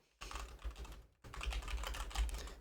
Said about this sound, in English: as I'm typing the name Rodent in